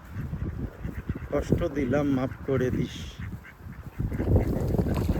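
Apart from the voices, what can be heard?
ducks and geese calling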